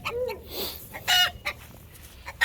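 Several hens cluck and squawk in short bursts at close range, with a few sharp louder calls and no talking.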